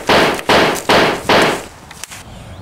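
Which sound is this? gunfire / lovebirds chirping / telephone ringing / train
gunfire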